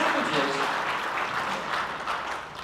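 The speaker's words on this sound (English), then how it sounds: "Give Kevin a nice round of applause." A brief burst of clapping from a lecture audience, moderately loud and steady, fading slightly toward the end.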